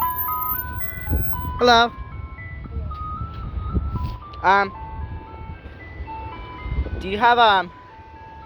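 An ice cream truck's tinny musical chime plays Für Elise on a cold evening, a steady melody running throughout, while people talk nearby and engine-like bursts and a higher warbling tone rise over it several times.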